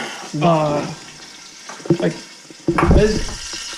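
Chicken breast and sausage cooking slowly in a covered pan give off a steady sizzle and bubbling close by. Speech-like voiced bursts come and go over it.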